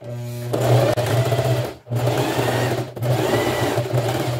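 A sewing machine runs fast and close, stitching and backstitching fabric in a steady mechanical whir broken by two brief pauses.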